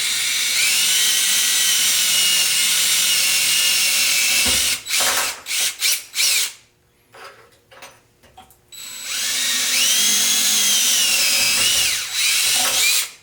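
A power drill bores into a part of a Tamiya Agrios RC truck, a loud, high whine running continuously, then stuttering in short bursts and pauses before resuming at full speed.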